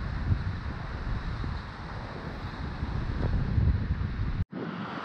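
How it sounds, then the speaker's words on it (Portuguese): Steady wind buffets the microphone on a beach during a kitesurf outing, a broad continuous roar with low rumbling gusts, briefly cutting out near the end before resuming. "o vento está um pouquinho mais fraco"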